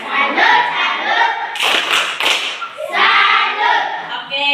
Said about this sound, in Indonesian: Mari kita tepuk salut.